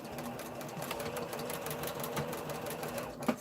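Sewing machine stitches a fabric face mask close up in a short continuous whirring run that ends with a small click.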